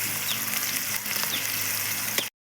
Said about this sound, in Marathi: कांदा चांगला परतून लाल करून घेऊयात